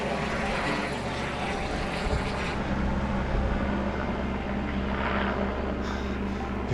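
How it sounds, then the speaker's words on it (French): Helicopters ferrying supplies for trail works on the Tongariro Alpine Crossing in New Zealand, a steady low rotor drone and engine hum that holds throughout over wind, fairly close and continuous. "il y a des hélicoptères là qui arrivent, qui font que venir repartir"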